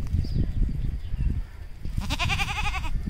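A goat gives one loud, quavering bleat near the end, close by, after a stretch of low rumbling handling and background noise outdoors.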